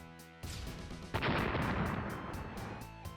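Cluster bomb explosion in the mobile game Badland Brawl: a loud burst that swells into a dense crashing roar, with rapid popping detonations layered over it for several seconds.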